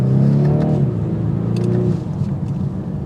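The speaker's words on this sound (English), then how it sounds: "even if you hit a lower RPM, you're still going to hear the exhaust note." A 2023 BMW 430i Coupe pulls away under acceleration, its exhaust note rising through the revs and then easing off, moderately loud and close with no talking.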